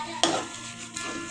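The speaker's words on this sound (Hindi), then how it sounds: "राई को अच्छे से हम फ्राई कर लेंगे" Mustard seeds drop into hot oil with a sudden loud burst of sizzle, then crackle and hiss steadily before a second softer surge near the end. No one speaks.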